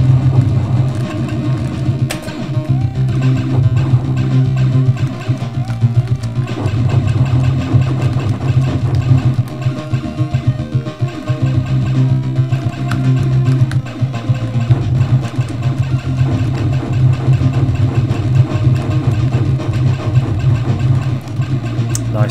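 Turbo engines from the Amiga lunar-colony simulator Moonbase produce a loud, steady mechanical drone with a continuous idling rumble that holds for the whole stretch, with no talking.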